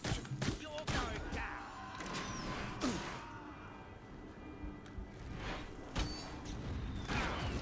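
A burst of rapid gunfire followed by scattered single shots and metallic clanks, with game effects ringing between them, in the PS5 video game Gangs of Sherwood.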